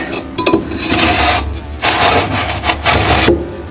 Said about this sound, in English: Now, I gotta trim this one here.